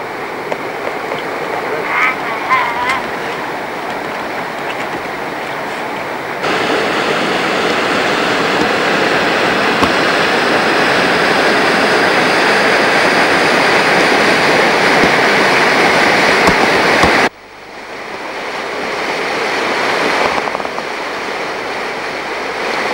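Water flows steadily at the spring source of the Arlanza river in a Spanish recreation area, a continuous broad rushing wash that holds for most of the clip before dropping abruptly to a quieter background.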